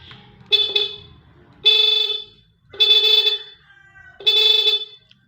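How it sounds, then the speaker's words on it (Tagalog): A vehicle horn being tested sounds four times, each a short loud beep with brief pauses between, close by with no talking. "Itong busina. Busina to testingan."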